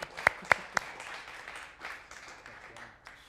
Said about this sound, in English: One more hand of applause, if you would.